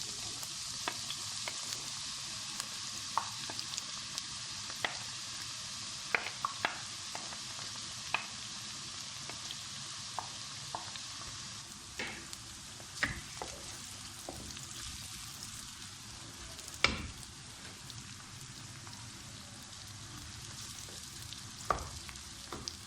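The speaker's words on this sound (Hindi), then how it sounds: "अब हम प्याज डालेंगे और प्याज को भी हमने हल्का सा फ्राई कर लेना है।" Onions sizzle and crackle steadily in hot oil for an okra dish, with a broad frying hiss and scattered sharp pops and stirring knocks throughout, close and moderately loud, no talking.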